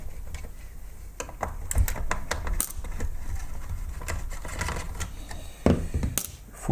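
Screws being backed out of a robot vacuum cleaner's circuit board, a close run of irregular sharp clicks and ticks from the screwdriver working, with a few heavier knocks near the end.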